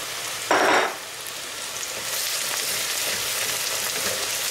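Chopped onion sizzles steadily in a frying pan as garlic goes in, a short louder hiss bursting out near the start before the frying settles into an even, close crackle for tripe soup.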